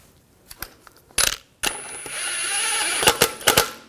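Lug bolt threaded onto the wheel hub of a 2004-2009 Audi A4 Quattro, heard as a few sharp metallic clicks and clunks followed by a sustained ratcheting, scraping metal run with several louder knocks near the end, close and alone.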